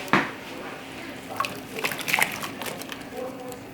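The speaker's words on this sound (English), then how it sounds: "I guess if I would have put those in first, it would have prevented the splash" Onions dropped into a pot of turkey gizzard and heart soup broth, giving a short close splash followed by a few light sloshes and drips, with faint talking.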